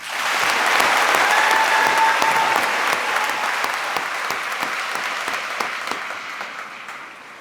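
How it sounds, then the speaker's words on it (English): An audience applauds at a high school graduation commencement ceremony, a dense sustained clapping from a large crowd in a hall that starts loud and slowly tapers over several seconds. "May we have a round of applause?"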